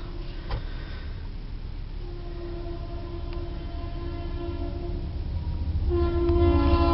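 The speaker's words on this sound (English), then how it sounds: "the train's getting ready to come through" A train horn sounds in long sustained blasts over a heavy rumbling roar of a passing train, growing louder toward the end.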